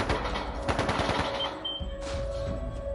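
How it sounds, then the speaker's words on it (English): Rapid automatic gunfire in the video game Trails of Cold Steel II, a dense rattling volley of shots over a loud game soundscape, continuous for a few seconds. "That sounded like gunfire"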